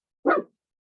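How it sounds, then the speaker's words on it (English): Single sharp bark from a puppy, fairly close and moderately loud, a short yappy burst in an otherwise silent indoor moment. "Or you can hear my dog, my puppy."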